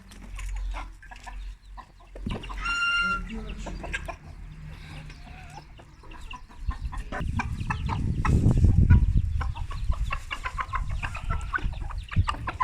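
Chickens cluck and squawk close by, with a sharp cackle early on and busy, overlapping clucking building toward the end.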